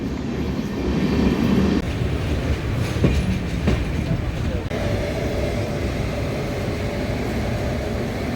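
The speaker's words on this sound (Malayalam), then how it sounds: "ട്രെയിൻ എത്തി ട്രെയിൻ എത്തി" A train rumbles steadily nearby with clattering wheels at the KSRTC Transpo 2025 expo in Thiruvananthapuram, a brief horn-like tone joining midway, while people talk faintly underneath.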